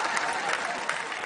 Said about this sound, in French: On les applaudit, mesdames, messieurs, ils ont été extraordinaires.